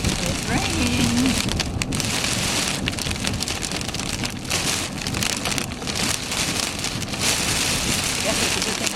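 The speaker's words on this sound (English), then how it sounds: "It's raining." Steady outdoor rain pours down on a spring day, a dense, even hiss of drops striking surfaces throughout, with a faint voice briefly audible beneath it.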